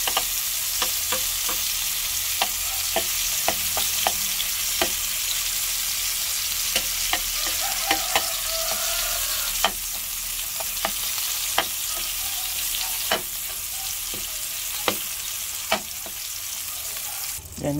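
Sliced hotdog frying in a pan for a Filipino breakfast, a steady close sizzle with scattered sharp pops and utensil clicks throughout, no talking.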